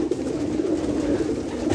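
Low, rolling cooing from pigeons brought from Germany carries on without a break, fairly close and even in loudness, and no voices are heard.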